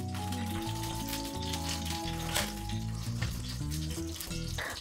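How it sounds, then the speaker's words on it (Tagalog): Garlic sautéing in hot oil in a home kitchen pan, a steady dense sizzle and crackle running throughout, close and fairly loud, with no talk. "pag init ang oil, ibutang na to ang garlic. Igisa na to si garlic."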